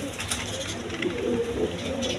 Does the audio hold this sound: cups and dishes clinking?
no